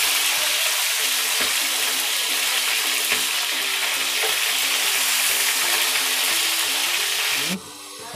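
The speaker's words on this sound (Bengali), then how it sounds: "এখন আমি রোস্টগুলো হালকা ভেজে নিব।" Chicken roast pieces, rubbed with food colouring and salt, sizzle steadily in hot oil with a constant dense crackle, the frying cutting off abruptly near the end.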